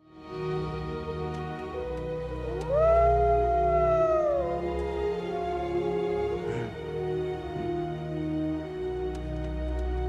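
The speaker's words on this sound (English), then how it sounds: "The wild wolf pack howls to Balto, as if wondering if he is one of their own" A wolf pack in the animated film Balto howls in long, rising and overlapping notes that hold and fade over a low, sustained drone, close and fairly loud.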